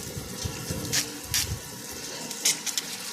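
Water falls onto a small homemade generator project, giving a steady splashing, gushing wash with a few brighter bursts of splatter, close and continuous with no talk.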